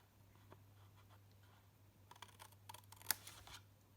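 Scissors trimming cardstock for a petrol can gift slider box: a few quiet snips build to a cluster of crisp close cuts with one sharp clip, over a faint steady hum.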